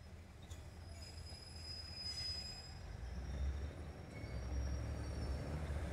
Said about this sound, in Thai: เดี๋ยวเอา356ก่อนเข้ามาในชานชาลาที่5ค่ะ